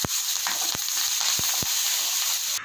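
Curry leaves and asafoetida paste crackle and hiss in hot oil while rasam is being made, a loud, steady sizzle close by with a few sharp pops along the way.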